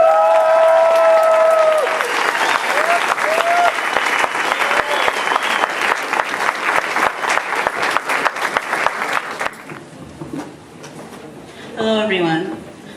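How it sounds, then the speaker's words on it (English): Loud applause from an audience at a State of the City civic presentation, steady dense clapping for about nine seconds with a voice over it early on, then fading into quieter scattered clapping and talk. "please give a big round of applause"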